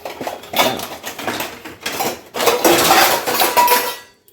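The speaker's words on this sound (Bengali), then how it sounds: "কড়াই নিয়ে নিই" A metal wok (kadai) clatters and scrapes as it is handled in a home kitchen while puffed rice is mixed, with repeated close, loud knocks and metallic rattles in uneven bursts before the noise stops abruptly.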